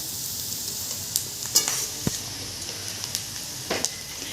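Onion frying in about four ladles of oil until crisp and dark, a soft continuous sizzle broken by several sharp spoon scrapes and stirs against the pan.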